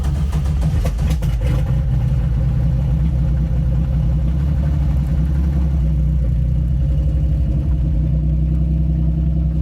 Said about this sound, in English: The distinctive sound of rod or crank knock. Basic engine death.